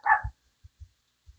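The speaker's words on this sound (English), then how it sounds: "Sorry about the dogs." A dog lets out one sharp, close bark, followed by a few soft low thumps and then quiet.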